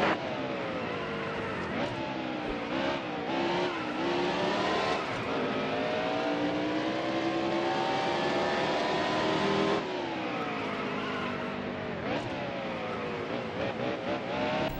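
Race car engines roar continuously on the final lap at Martinsville in NASCAR Heat Evolution, with loud rising and falling revs as the cars accelerate out of turns and brake into them.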